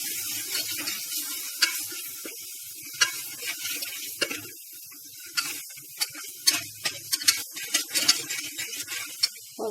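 Spices for a turnip curry fry in a pan while being stirred, a soft continuous sizzle broken by repeated scraping strokes and sharp spoon clicks against the pan, close by and with no talking.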